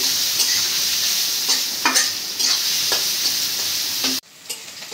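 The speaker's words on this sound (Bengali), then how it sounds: "পেঁয়াজটি একটু ভেজে নিই।" Chopped onion and green chili frying in oil in a pan, a continuous close sizzle broken by regular scraping strokes of a spatula before it cuts off abruptly near the end.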